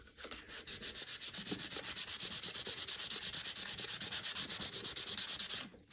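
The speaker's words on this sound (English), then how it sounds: "If you're going to use something with a shiny surface, like a composition notebook, sand it first." Sandpaper scrubs rapidly back and forth across the glossy cover of a composition notebook, a steady rhythmic rasp of about thirty close, loud strokes with no talking.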